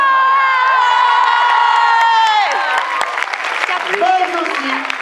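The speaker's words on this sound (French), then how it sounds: "vous faites un tonnerre d'applaudissements, s'il vous plaît, pour le gars avec qui j'ai écrit cette histoire" An audience at a film premiere of Gangsterdam in Lyon claps and cheers loudly, with shouts, whoops and excited voices rising over the sustained applause.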